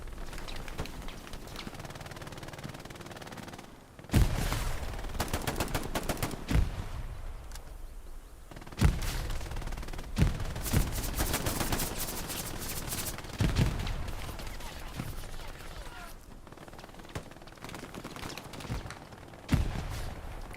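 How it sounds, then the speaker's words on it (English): Bursts of automatic gunfire with single shots mixed in, from a WWII Battlefield-style shooter set at Elsenborn Ridge in the Battle of the Bulge. The fire comes in loud, sharp clusters with distant battle noise between them and no talk. "MG round sailing on past"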